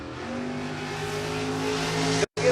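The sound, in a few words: drag racing car launching off the start line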